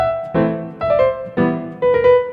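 Piano playing Burgmüller's Inquietude, Op. 100 No. 18, with the left and right hands broken apart into separate beats: four distinct chordal attacks in an even, halting rhythm, close and fairly loud, with no talking.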